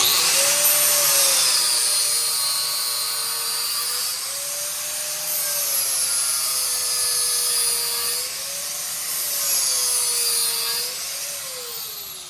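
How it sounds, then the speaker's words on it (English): Steady high-pitched motorized whine of an American blade sharpener running continuously, loud and close, its pitch wavering slightly as the blade is worked, with no talk over it. "This is the American blade sharpener, I believe it is."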